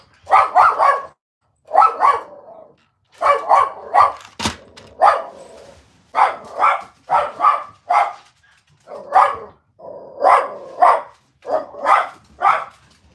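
A dog barks repeatedly in steady bursts of two or three yaps, fairly close and loud, with short pauses between groups and no talking over it.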